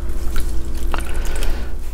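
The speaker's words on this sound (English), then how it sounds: "Little bit of water mixing." Water is poured and mixed into a concrete mix for a bonsai pot, a loud, close, continuous trickling and sloshing with no talk.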